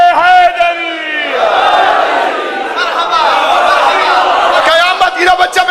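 A crowd at a religious gathering raises the chant Haidari, a loud swelling roar of many voices after a single leading shout, with trailing cries at the end.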